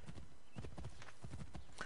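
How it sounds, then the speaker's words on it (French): In Assassin's Creed 3, a horse trots up on hooves after being whistled for, giving a quiet, close clip-clop rhythm over about two seconds. "Alors, siffler à cheval. Et là, j'appelle mon cheval."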